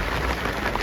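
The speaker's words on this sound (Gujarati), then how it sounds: "તો ફૂલ વરસાદ આવે છે ને આમ જો આમ પડતો જ આવે છે" Heavy rain pours down as a dense, continuous hiss, loud and close, with no voices.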